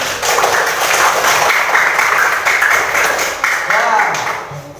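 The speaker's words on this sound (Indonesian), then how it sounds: "Beri tepuk tangan." A sixth-grade Indonesian classroom gives a round of applause, a steady dense clatter of children's clapping lasting several seconds, with voices mixed in underneath.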